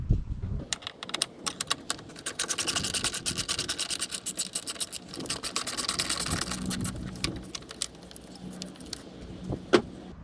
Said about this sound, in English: I'm going to be removing this battery hold down. It uses an 8mm socket.